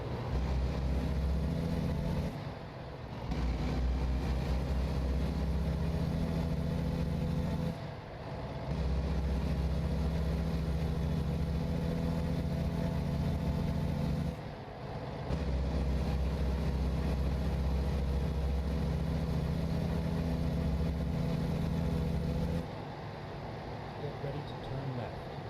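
Volvo truck engine in American Truck Simulator drones steadily at a low, loud pitch, cutting out briefly at a few points as if between gear changes, with a voice talking over it.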